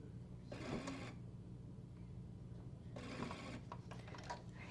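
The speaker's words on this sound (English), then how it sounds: "I'm going to lift my presser foot, pivot, and take 1 or 2 stitches across." Domestic sewing machine running in two short bursts as it stitches across a fabric placket, each burst a steady mechanical whir lasting about a second, separated by a quiet pause with faint clicks of the presser foot being lifted and the fabric pivoted.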